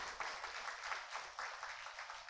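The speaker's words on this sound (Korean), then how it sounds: "우리 학생들에게 박수 한번 보내주시면 감사하겠습니다." A church congregation applauding students during a Sunday service, a dense, steady wash of clapping from many hands filling the room, moderately loud with no single claps standing out.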